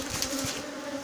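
Honey bees hum steadily at a beehive, with a close, continuous buzzing drone throughout.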